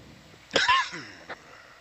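A single person sneezes, a short sharp burst followed by a brief voiced tail and a small second exhalation.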